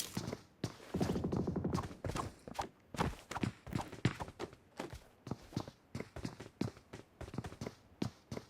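Hooves strike in a quick, uneven rhythm of sharp taps in PUBG Mobile, a horse moving at pace in the game, clear and close with no speech over it.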